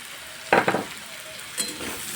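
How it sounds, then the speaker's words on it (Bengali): Vegetables with chopped green chilli fry in a pan for pasta: a low steady sizzle under two quick, close stirring scrapes, then another softer stir. "কাঁচা লঙ্কা কুচিটা দিয়েও আরও কিছুক্ষণ নাড়াচাড়া করে ভাজা ভাজা করে নেব"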